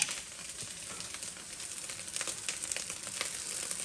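Pork belly frying hard for fried rice, a steady dense sizzle with crackling spits running unbroken throughout, close and fairly loud, no voices.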